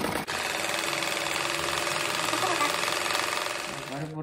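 A sewing machine stitches around the edge of a patchwork fabric rug, a loud, fast, continuous mechanical rattle running nearly the whole time before slowing slightly at the end.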